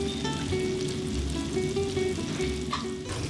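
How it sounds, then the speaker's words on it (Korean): Mung bean pancakes (bindaetteok) fry on a hot griddle with a loud, continuous sizzle and crackle, heard up close and alone. "지글지글 창밖으로 새어나가는 빈대떡 익는 소리가 일찌감치 손님을 반깁니다"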